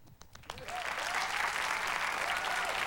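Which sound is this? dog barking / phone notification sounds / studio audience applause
studio audience applause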